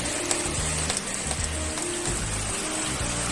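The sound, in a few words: heavy typhoon rain falling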